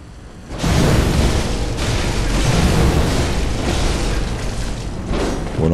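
Giant cannon firing in the video game Bloodborne, a loud booming blast that rolls into a sustained roar and rumble lasting several seconds, with no talk over it.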